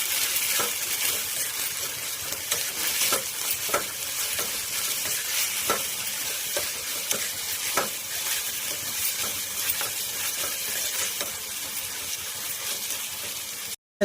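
Mutton keema curry stirred in a frying pan, a steady sizzle running throughout with close, irregular scrapes and taps of the spoon, and no talking.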